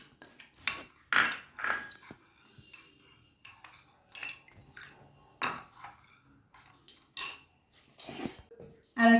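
A spoon stirs milk powder into cold milk, clinking and scraping against the bowl in short, irregular bursts separated by quiet gaps, close and fairly soft.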